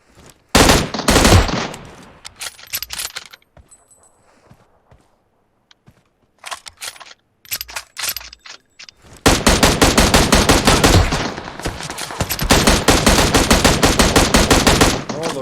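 Gunfire in the mobile battle royale game PUBG Mobile: loud rapid automatic bursts, with a short flurry at the start, scattered shots through the middle, then long sustained firing, and footsteps in between.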